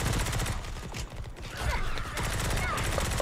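Gunfire from the Modern Combat Versus video game rattles almost without pause: dense, loud bursts that dip briefly before resuming.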